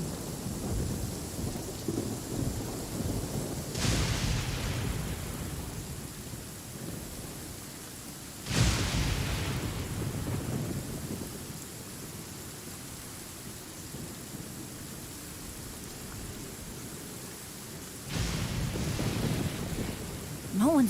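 A thunderstorm in Genshin Impact brings steady rain and three sudden lightning cracks spaced several seconds apart, each rolling off into rumbling thunder, all fairly close.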